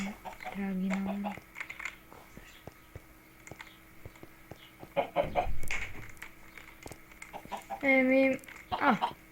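Chickens cluck in Minecraft in a few short bursts, with scattered clicks and soft knocks between the calls.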